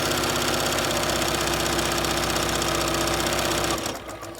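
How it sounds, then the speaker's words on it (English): A sewing machine stitching detail lines on the pocket fold of a reversible apron, running at a fast, steady mechanical whir close by, then slowing and stopping just before the end. "we're going to sew the little detail stitches on our pocket fold here"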